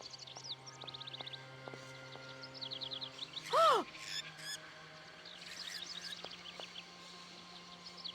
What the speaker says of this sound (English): Boy, those are some angry birds.